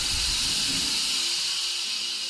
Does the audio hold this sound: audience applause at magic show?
no